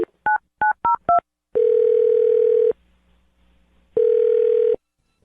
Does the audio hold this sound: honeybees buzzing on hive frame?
no